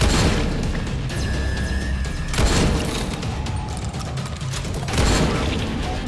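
Shotgun blasts from the video game Dying Light come as loud, heavy booms, with bursts at roughly one-second and five-second marks over a dense mechanical, clattering game backdrop.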